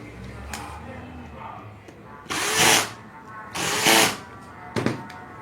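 A small electric screwdriver or drill removes screws from a dropped, noisy hair clipper, giving three short loud whirring bursts separated by quieter pauses with light handling noise.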